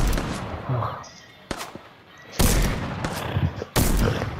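Bursts of gunshots in a few separate volleys, loud and close with sharp cracks and echoing tails, with a voice speaking between them.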